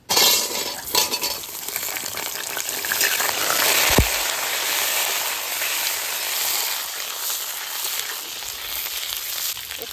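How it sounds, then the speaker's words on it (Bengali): Pointed gourd (potol) sizzling in hot mustard oil, a steady bright frying hiss with a few clinks of utensil against pan near the start, continuing alone without talk. "এবার পটলগুলো ভেজে নেব।"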